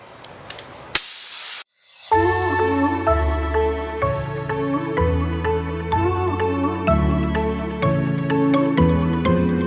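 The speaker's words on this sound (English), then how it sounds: "Shooting the compressed air in there, along with your solution." A short, loud hissing blast of compressed air rinses debris during a paint protection film install on a car, then gives way to steady background music.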